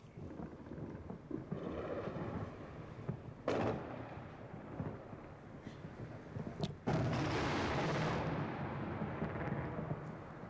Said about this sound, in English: the lesser sounds were anti-aircraft fire. The larger sounds, in the beginning, Tomahawk cruise missiles